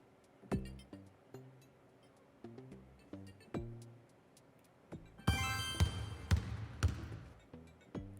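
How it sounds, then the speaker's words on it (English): Game sound of a basketball bouncing in the Switch 2 Welcome Tour video game: a quick run of sharp thuds in the second half, after a series of chime-like menu tones, with no talking. "Basketball."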